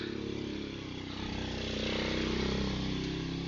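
A motorcycle passes along a hilly residential street in Baguio, its engine a faint, steady drone that swells slightly as it draws nearer, heard amid low street ambience.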